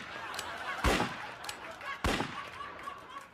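Gunfire rings out in the mobile battle-royale game PUBG/BGMI during a team deathmatch, two sharp, loud shots about a second apart, each with a short decaying tail, over a quiet background.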